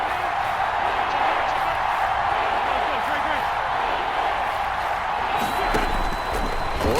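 A stadium crowd in the football video game Madden 21 roars steadily ahead of a big third down, a dense, even wash of cheering that holds for the whole stretch.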